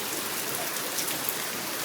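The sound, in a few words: rain falling outside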